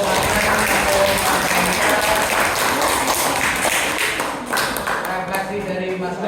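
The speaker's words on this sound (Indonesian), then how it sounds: "Beri tepuk tangan untuk" An audience at an Indonesian gathering claps loudly in sustained applause, dense and steady before thinning slightly toward the end, with a faint voice underneath.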